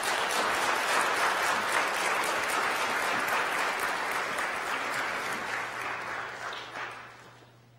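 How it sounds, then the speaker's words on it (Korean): A church congregation gives warm applause in welcome during a Sunday service, dense sustained clapping that holds steady and then tapers off toward the end, with a faint low hum underneath. "우리 이 자리에 선 이시연 교우에게 여러분들 따뜻한 환영의 박수 부탁드리겠습니다"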